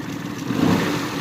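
Engine of a 2021 Suzuki Alto with a starting problem, given a light rev. A brief, close, low mechanical drone briefly swells and then settles back, with no talking.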